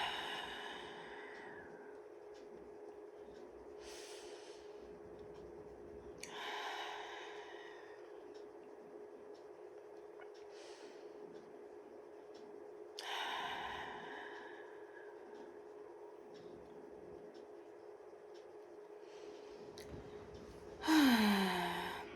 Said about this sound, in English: I'm just gonna take some deep breaths.